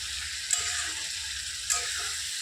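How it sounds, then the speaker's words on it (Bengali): Vegetables fry with spices in a pan on a home stove, a steady hissing sizzle with two brief sharp clinks as they are stirred. "এখন ওই যে মশলা দিয়ে একটু ভাজাভাজি করে কষায় নিই,"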